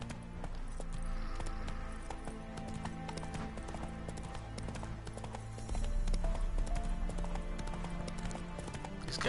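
Roach, the horse in The Witcher: Wild Hunt, gallops with rapid rhythmic hoof clip-clops over game music and ambience, the hoofbeats growing louder and heavier midway through.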